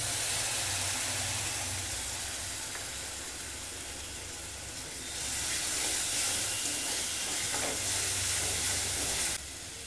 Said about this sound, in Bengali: এবারে আমি মশলাটা মিশিয়ে দিচ্ছি।